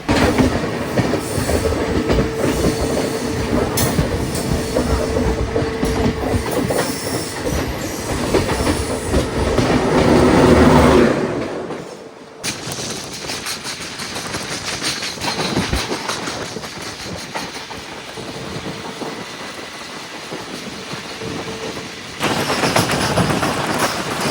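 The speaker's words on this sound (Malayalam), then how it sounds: "ഇതാണ് സിന്ധുദുർഗ് എക്സ്പ്രസ്. ഭുസാവലിലെ ഒരു കിടിലൻ പഴയ WP4 ആയിരുന്നു ലോക്കോ കേട്ടോ." The Sindhudurg Express, hauled by an old Bhusawal-based WP4 locomotive, rumbles past close by, loud wheels clattering and squealing over rail joints, then a sharp drop and a steadier, quieter rolling of coaches continuing to pass.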